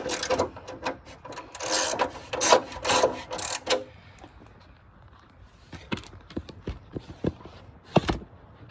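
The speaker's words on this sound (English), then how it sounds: "we're going to start by getting our little 5mm socket here and loosening these 2 screws." A 5mm socket works loose the screws holding a headlight on a GMT400 OBS Chevy truck, with a run of raspy turning and scraping, then sharp separate clicks and taps that come close and stand alone.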